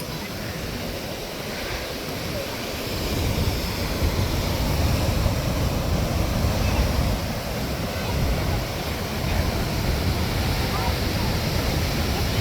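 Big waves wash over the Coogee rock pool at very high tide in a continuous, loud roar of surf and rushing water that swells in the middle, with wind buffeting the microphone.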